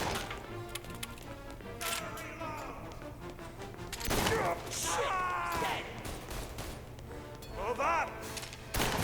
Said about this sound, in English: Now it's a firefight.